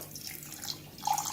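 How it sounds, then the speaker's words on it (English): Tap water running into a cup while bread is being made, a soft steady splashing stream heard close by and alone, growing slightly brighter toward the end as the cup fills. "that's how you fill up a cup of water"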